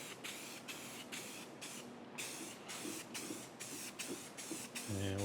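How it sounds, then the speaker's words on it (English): Rust-Oleum gloss dark gray spray paint hisses from an aerosol can in repeated short bursts onto a Monarch 10EE lathe apron, steady and close, with a brief low hum at the end. "I'm just using some Rust-Oleum. This is gloss dark gray"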